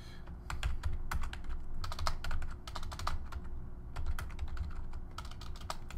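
Typing on a computer keyboard, close and clear, with rapid bursts of key clicks separated by short pauses over a low steady background hum.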